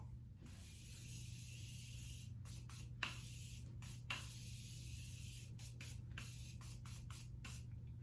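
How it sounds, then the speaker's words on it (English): A Morphe Continuous Setting Mist bottle sprays onto a face in a quick run of close, hissing bursts, each separated by a short pause. A faint steady hum runs underneath. "I told you guys it would look like I sprayed half of it on my face."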